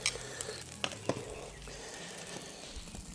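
Wagyu beef sausages sizzle faintly on a barbecue grill, a soft continuous crackle with a couple of sharp ticks early on.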